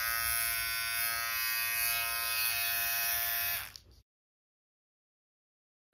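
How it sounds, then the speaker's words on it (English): A Philips OneBlade 360 electric trimmer runs with a steady, loud, close buzzing hum for about four seconds, then cuts off abruptly into silence. "Let's see what's the noise level for Philips OneBlade 360."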